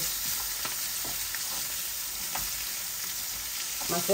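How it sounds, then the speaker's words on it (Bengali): Pieces of fish fry in a pan of spiced oil as they are turned and stirred. A continuous dense sizzle fills the scene, with soft scrapes and knocks from the spatula and no talk. "মাছগুলাকে নেড়ে চেড়ে আমি দিয়ে দেই।"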